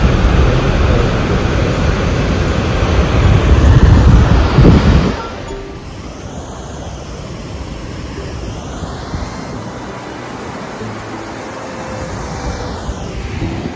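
Rushing water from Dombur waterfall in Tripura, a hydroelectric power source, roars as a loud broadband wash that drops to a softer, steady rush partway through, with wind buffeting the microphone.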